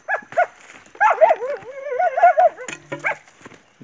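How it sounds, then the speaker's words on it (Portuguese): Several hunting dogs yelp and bay excitedly at close range during a night hunt, overlapping howls and short barks in quick succession. "a cachorrada tá aqui"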